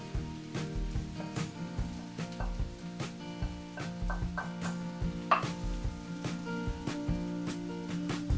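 Noodles stir-fried with vegetables, bean sprouts and spring onion sizzle steadily in a hot pan, with frequent clicks and scrapes of a utensil tossing the food over the continuous frying hiss.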